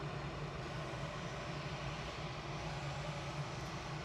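A Norse airliner approaching Manchester Airport makes a faint, steady engine drone with a low hum beneath it, constant and distant, with no voices.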